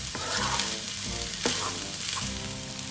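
Homemade vegetable fried rice sizzles loudly in a pan while being stirred and tossed, with a few sharp scraping clinks of the spoon against the pan amid the continuous crackle.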